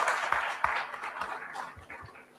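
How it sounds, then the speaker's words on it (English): Audience at a CFO summit applauding the morning speakers, a continuous, moderately loud spread of clapping from many people that tapers slightly toward the end, with no one talking over it. "Please, if you can give a big round of applause."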